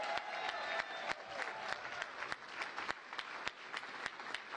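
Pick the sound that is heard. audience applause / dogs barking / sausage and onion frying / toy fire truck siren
audience applause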